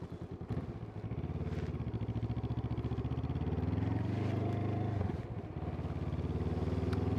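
Motorcycle fitted with a Chigee AIO-6 MAX GPS unit being ridden, its engine droning steadily and loudly throughout with a rumbling low note, a brief dip near the five-second mark, then pulling strongly again; no talking.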